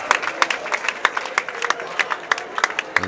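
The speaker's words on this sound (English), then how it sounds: "cheer from the Hartford fans right here" Hartford fans cheer and clap at a boys varsity basketball game against Fair Haven, a steady indoor crowd roar broken by sharp, repeated bursts of clapping throughout.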